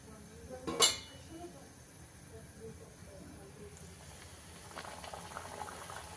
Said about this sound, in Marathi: तर सगळ्या अशा मी तळून घेते पुऱ्या.